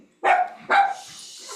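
A dog gives two loud, close barks in quick succession, each sharp and full, followed by a short fading tail.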